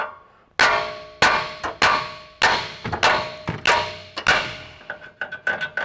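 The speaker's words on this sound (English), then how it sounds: "take a hammer, and you're just going to strike in this vicinity of the knuckle" Sharp metallic hammer blows strike a Toyota Tundra's steering knuckle to break the tie rod end loose, about a dozen strikes in an uneven rhythm, close and loud with a bright clang on each hit.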